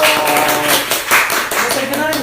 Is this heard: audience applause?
yes